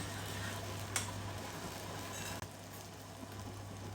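Ginger garlic paste cooking in a pan for a spicy chicken chataka, giving a steady, soft sizzle with faint stirring clicks and a constant low hum underneath.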